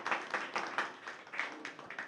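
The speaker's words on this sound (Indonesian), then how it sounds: "Mungkin boleh tepuk tangannya atas sambutan yang sangat bermanfaat tadi." A small audience claps quietly at a formal event in Madura, a short patter of applause that lasts about two seconds.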